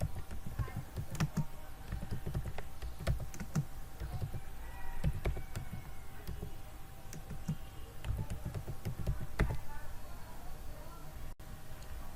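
Typing on a computer keyboard during a Windows 11 settings fix: a quiet run of irregular key taps and clicks spread over about twelve seconds, close but faint over a steady low hum.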